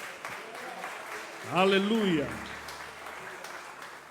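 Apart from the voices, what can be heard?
congregation applauding the word of God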